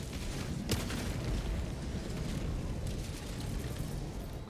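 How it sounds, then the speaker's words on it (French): A large bomb blast in the video game Helldivers 2, a sustained, rumbling roar with a sharp crack near the start that stays loud and dense throughout, like a continuous booming eruption. "La bonne grosse bombe."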